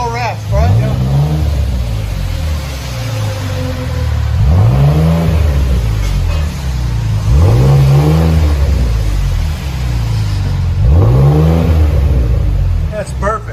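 A Ford Explorer 3.5L EcoBoost V6 revs repeatedly in four rising bursts, heard from inside the cabin, with a steady low exhaust rumble between each rev.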